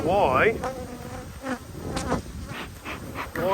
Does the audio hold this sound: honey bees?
yes